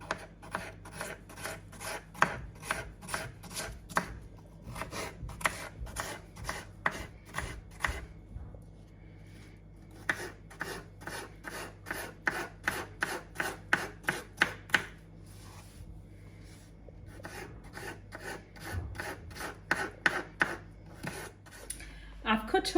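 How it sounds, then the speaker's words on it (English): A knife repeatedly slices potatoes into thin chips for vegetable pakora, producing rapid, steady chopping strokes against a board in bursts with brief pauses, close and crisp, with occasional faint talking. "I've cut all the potatoes into thin chips"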